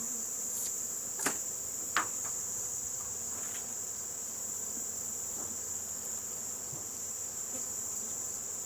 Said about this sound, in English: We'll have some field bees bringing in some fresh nectar.